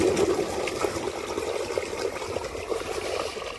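Irrigation water gushing from a pipe into a farm field, a steady moderate splashing and trickling flow with no talk.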